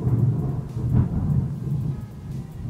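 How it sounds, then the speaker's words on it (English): Thunder from a storm in Ohio rumbles low and steady over rain, a continuous distant roll with a slightly stronger swell near the middle, no voices present. "It's been storming here in Ohio all day. Like, when I say storming, I'm talking lightning, thunder, like the whole shebang."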